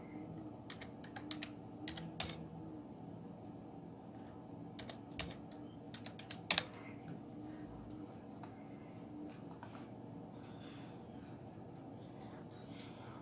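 Fingers type a violation ID on a computer keyboard in soft, quick bursts of key clicks, with quiet pauses between them and one louder tap partway through.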